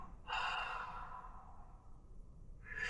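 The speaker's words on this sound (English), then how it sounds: "The exhale can be through the nose or the mouth." A slow, breathy exhale lasting about a second and a half, close and fairly loud, made during an in-in-out breathing pattern for walking meditation, followed by the start of another breath.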